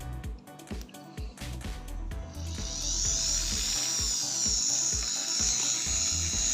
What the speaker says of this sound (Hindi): अब हम इस पर ड्रिल करेंगे।